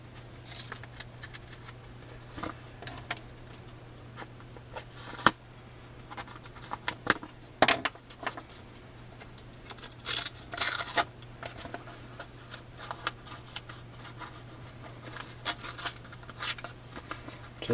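Taped envelope holding 4x6 autographed photos being opened by hand, crinkling, tearing and rustling paper in irregular bursts, close up with no talking.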